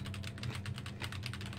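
Fast, steady typing on a computer keyboard, a dense run of close key clicks at even volume with a low hum underneath, played while gaming in The Escapists 2.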